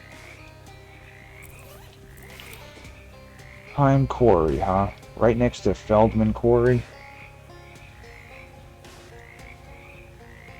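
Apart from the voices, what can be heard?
frogs croaking in video game Shadows Over Loathing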